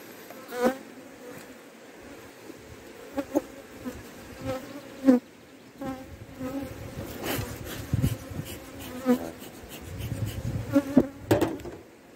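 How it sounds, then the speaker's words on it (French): Bees hum and drone in irregular swells around high-mountain hives, some passing close with louder buzzing bursts, over a quiet background with occasional light knocks. "J'aime pas des abeilles comme ça parce que"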